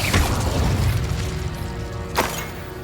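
A Bombardo blasting spell goes off in the Hogwarts Legacy video game: loud rumbling blast noise fills the scene, with a sharp burst near the end, over steady game sound.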